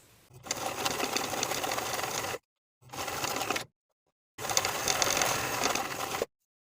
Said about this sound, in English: Edge stitch along both long edges with about an 1/8 inch seam allowance